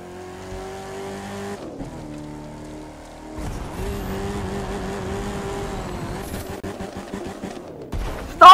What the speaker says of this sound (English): Our first monster truck up is the number 88 National Guard monster truck.